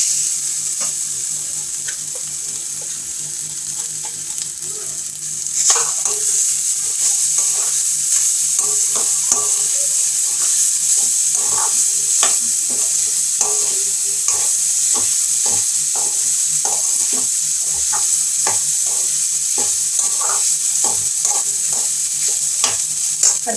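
Cooked rice being stirred and tossed with gooseberry in a hot pan, a steady sizzling hiss under repeated scraping and clattering spoon strokes, close and continuous without speech.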